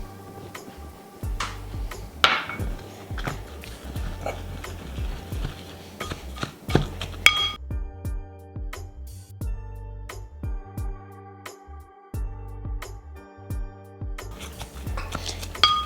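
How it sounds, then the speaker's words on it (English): Curry paste being mashed with chili powder and oil, irregular knocks, scrapes and clinks of a utensil against a bowl repeating throughout, fairly close, with no speech. "So I'm trying to mash properly."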